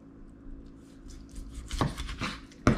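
Chicken pieces being cut apart by hand on a board for marinating, with a few soft knife cuts building to sharper chops near the end, close and fairly quiet.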